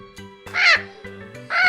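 A macaw parrot gives two loud, harsh squawking calls, close and clear, over a soft steady tonal background.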